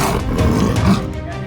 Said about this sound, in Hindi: पिंजरे से ऐसी दहाड़ जिसको सुनकर किसी की भी सिट्टी पिट्टी गुम हो जाए।